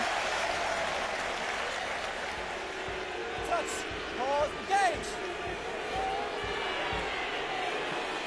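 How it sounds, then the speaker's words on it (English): Stadium crowd at a 2007 Rugby World Cup match involving England, a dense continuous roar with sharper swells, whistles and shouts rising mid-way, under a commentator's voice. "Listen to the crowd."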